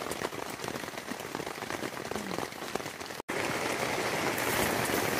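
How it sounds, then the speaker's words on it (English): Heavy rain pours down outdoors along a trail, a dense loud steady patter drumming on surfaces, cut by a brief gap before continuing unbroken. "It's really coming down now."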